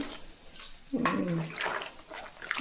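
Vegetables are swished and rinsed in a basin of water to wash out sand, splashing in short bursts close by, with faint voice sounds in the background.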